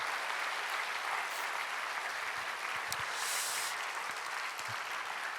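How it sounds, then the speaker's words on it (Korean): Applause of encouragement for the young adults in a church prayer meeting: a steady, dense patter of many hands clapping across the congregation, fairly distant and even, with a few brief louder claps and knocks. "다시 한번 큰 박수, 한번 격려 박수"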